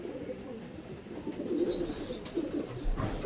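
Racing pigeons coo in a loft, soft throaty calls repeating close by over a low background murmur.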